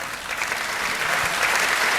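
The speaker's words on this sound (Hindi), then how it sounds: "एक बार तालियां बजा करके माहौल दे दीजिएगा" Audience clapping at a Hindi comedy poetry recital, a thick, continuous roar of many hands that swells slightly toward the end, loud and steady throughout with no speech.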